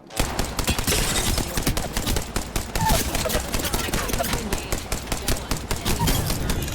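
Rapid automatic gunfire rattles continuously in the Apex Legends battle royale game, dense and loud for the whole stretch, with quick repeated shots and no pauses.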